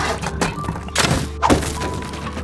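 A wall being blown apart in the survival game Rust, with a 1x2 bomb. Several heavy thunks and breaking crashes land over about two seconds, close and loud, with a short pause between the impacts.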